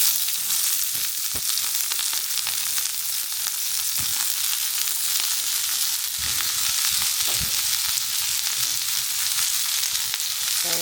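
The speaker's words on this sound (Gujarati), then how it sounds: "તો ચાલો આપણે વઘારી નાખીએ ધીરે ધીરે।" Cabbage, green chilies and ginger sizzle steadily in hot oil as a tempering, a continuous loud crackling hiss with occasional soft knocks from the pan, close by and with no talking.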